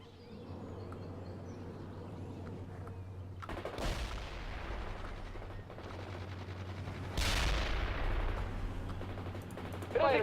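Grenade launcher fire in the World in Conflict video game: two sharp, heavy blasts with trailing rumble, one near four seconds and another near seven, over a steady low battlefield drone and scattered distant gunfire.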